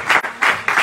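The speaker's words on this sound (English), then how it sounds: "let's give a round of applause for Pastor Halton" A church congregation claps in a brief, lively burst, many hands close together with the loudness swelling in uneven waves.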